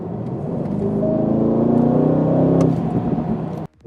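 A 2025 Aston Martin Vantage's 4-liter V8 revs up loud and close, a deep rising growl that climbs steadily in pitch, holds, then cuts off abruptly.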